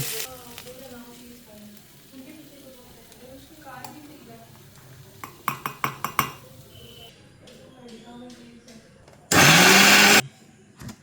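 A mixer grinder roars loudly for about a second near the end, grinding fried chana paneer masala ingredients into a paste, after stirring and clinking sounds and some low background talk.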